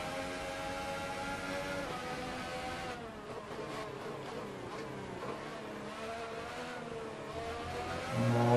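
A Formula 1 car in the Formula 1 2018 video game at the Austrian Grand Prix in Spielberg gives a continuous high engine whine that climbs and shifts while accelerating, steady and fairly quiet, with a louder swell at the end.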